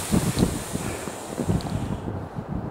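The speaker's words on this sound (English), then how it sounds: "it's windy today" Gusty wind buffets the microphone with a steady low rumble and rushing noise, fairly loud and close throughout.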